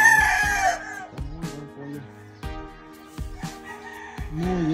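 A rooster, an Albany Roundhead Kelso gamefowl, crows loudly right at the start, then several sharp clucks and short calls follow in an irregular rhythm.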